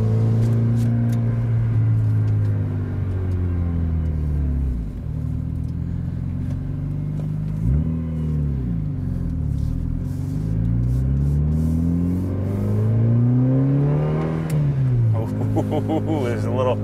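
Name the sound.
Mitsubishi Evo 8 exhaust while driving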